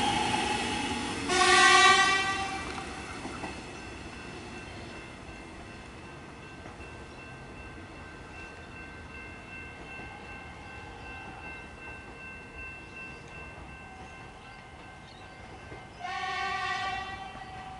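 A Melbourne suburban train passes at Riversdale station, opening with a loud horn blast, then a long steady rumble of carriages rolling by, ending with another horn sounding near the close.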